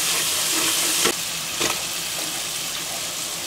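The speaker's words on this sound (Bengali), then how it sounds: "তো মশলাটা কষিয়ে নিচ্ছি আমি প্রথমে তরকারিটা দেওয়ার আগে" Spice masala sizzles steadily in a hot pan in a Bengali village kitchen, with two brief stirring scrapes partway through and no talking.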